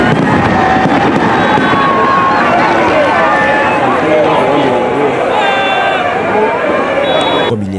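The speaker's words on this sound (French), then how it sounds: "des feux d'artifice éclatent sous le ciel de Yaoundé." New Year's midnight fireworks burst over a large crowd gathered at the central post office square in Yaoundé, with sharp pops scattered through loud crowd noise and a voice talking over it.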